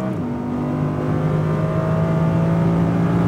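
An Audi R8 V10 accelerating on a track, a loud, steady engine drone with a rising tonal whine heard from close by, continuous across the whole stretch with no voices.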